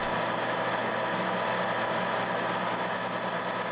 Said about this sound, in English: A small amount of metal is trimmed off the rear surface of the bolt lugs.